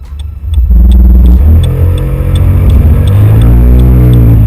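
Kymco K-XCT Sport 125 scooter with a four-valve engine pulling away, a loud, steady mid-pitched engine drone that rises in pitch as it accelerates, close up and without talk.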